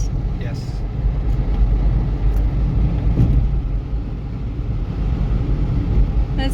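A rented car cruising along a road on Long Island in the Bahamas, with a steady low engine and tyre rumble throughout, the road noise sitting under occasional talk.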